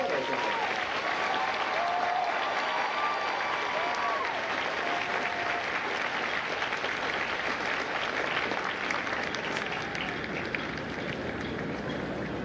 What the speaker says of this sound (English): please join me in a round of applause for the company staff of Florida Company